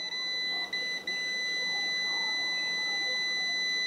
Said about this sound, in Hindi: यहाँ भी बीप दोनों ओर आपको बीप सुनाई दे रही है